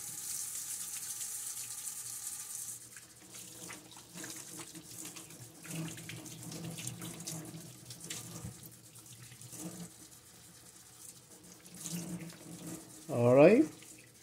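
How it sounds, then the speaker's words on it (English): A kitchen tap running as hands are washed before making kimbap, a steady faint stream of water with soft splashing and rubbing, and a brief louder gush near the end. "So I like to wash my hand first."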